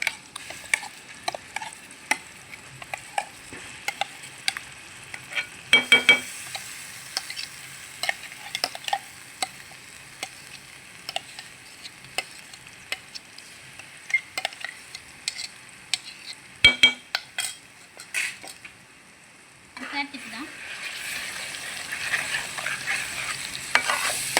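Onion paste frying in a pan for an egg and potato curry, a quiet low sizzle under repeated scraping and stirring clatter with occasional metallic knocks, the frying growing louder toward the end.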